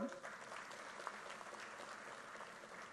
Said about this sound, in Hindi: कलिता जी के लिए ताली बजाओ जरा